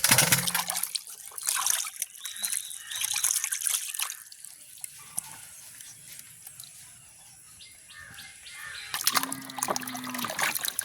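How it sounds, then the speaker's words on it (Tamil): Cassava tubers being washed by hand in water in a village setting, with sloshing, splashing and trickling throughout, louder at the start and end and quieter in between, with birds faintly in the background. "இப்படியே நல்ல வடிவாக கழுவி எடுப்போம்."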